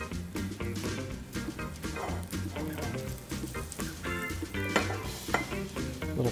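Sushi-grade tuna sears in an oiled pan with steady, close sizzling and crackling, mixed with stirring and pan noise, with a dog barking faintly in the background.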